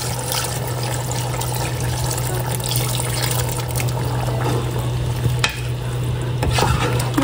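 Coconut cream is stirred into cooked, softened jackfruit in a pan over a steady simmering sizzle, with a low hum and occasional soft scrapes of the spoon.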